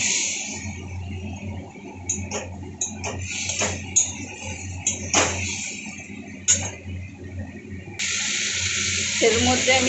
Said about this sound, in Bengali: সামান্য জল অ্যাড করছি।